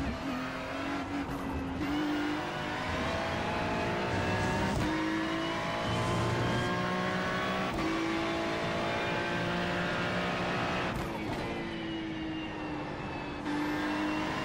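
A GT3 race car screams around Le Mans in iRacing, its engine howling loud and close with rising and falling pitch through gear shifts, continuous for the whole lap segment with no talk over it.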